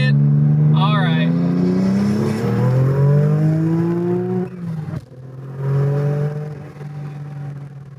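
A 700 hp Porsche 996 Turbo accelerates hard through the gears, its engine note climbing steadily in pitch, dropping briefly at a shift, then pulling again, loud and close, with a voice talking over it.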